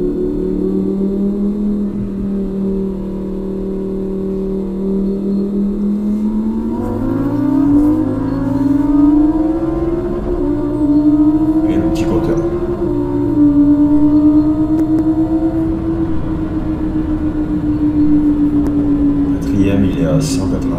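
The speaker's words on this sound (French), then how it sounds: "on va écouter un peu le passage de vitesse et le passage de rapport et la puissance du véhicule" Lamborghini Huracan EVO supercar engine pulling hard under acceleration, a loud in-cabin drone rising in pitch and dropping at gear changes, with several upshifts over about twenty seconds.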